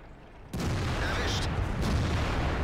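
A tank cannon fires in World of Tanks, a sudden loud blast that erupts from near silence and then rolls on as a dense, rumbling wash of battle noise.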